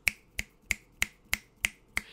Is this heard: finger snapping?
yes